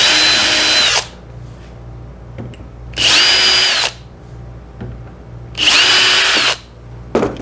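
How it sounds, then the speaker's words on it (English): A power drill bores into an aluminum strip being fitted to the bottom of a milling machine, whining loudly in three sustained bursts of about a second each, separated by quiet pauses with faint shop hum. "I'm going to drill and tap a 832 in the bottom of my mill"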